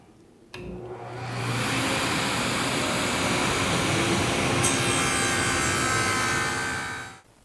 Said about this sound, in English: if you outfit your table saw with the right jigs and fixtures, you can do really neat tapering cuts